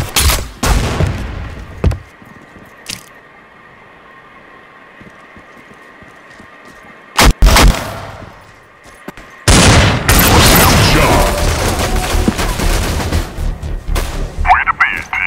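A competitive Counter-Strike Online 2 match gives loud, sharp bursts of gunfire and a booming grenade blast, separated by quieter gaps and followed by sustained heavy in-game noise.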